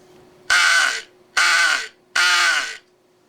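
A Fearnot crow call blown to imitate a crow, three loud, harsh caws spaced evenly about a second apart, close and alone with no talking.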